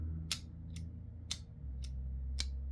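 A Winterblade M folding knife blade flicks out in five sharp, crisp clicks at a fairly even rhythm. Each click is close and distinct over a quiet background.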